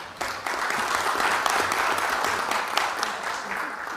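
An audience applauds steadily throughout, a dense wash of clapping with a faint voice underneath, fairly loud and close.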